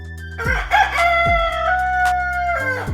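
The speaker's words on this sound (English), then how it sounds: "they heard a desperate crowing from a nearby farm" A rooster crows loudly and close by, one long rising-and-falling call with a few short clucking sounds around it.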